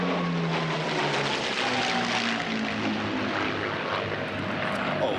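A propeller warplane with black crosses on its fuselage and tails drones steadily overhead at a Duxford airshow, a loud continuous engine roar with a slowly shifting pitch that fills the whole stretch.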